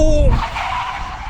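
An Audi RS6 Performance brakes hard from about 100 mph in a brake test, a short, loud tire squeal and skid sliding down in pitch as the car slows, with a voice over it.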